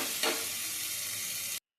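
Egg curry masala stir-fried in oil in a pan, a steady close sizzle with a brief scrape of stirring near the start, no talk.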